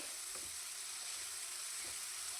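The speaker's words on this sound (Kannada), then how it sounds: "ಉಪ್ಪು ಹಾಕ್ಕೊಂಡ್ಮೇಲೆ ನಾನಿಲ್ಲಿ ಮತ್ತೆ ಇದನ್ನು ಒಂದು ಸ್ವಲ್ಪ ಹೊತ್ತು ಫ್ರೈ ಮಾಡ್ಕೊಳ್ತಾ ಇದ್ದೀನಿ" Tomato frying with salt in a pan gives a faint, even sizzle and hiss with a few soft stirring taps, no talking.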